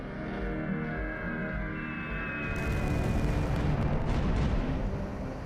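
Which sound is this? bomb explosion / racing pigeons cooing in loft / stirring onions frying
bomb explosion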